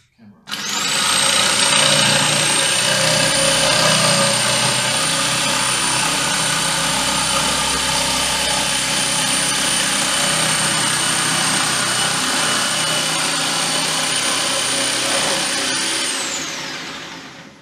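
An electric jigsaw with speed regulation cuts round wood planks for wax models, running as a loud, steady high-pitched whine for about fifteen seconds before winding down at the end.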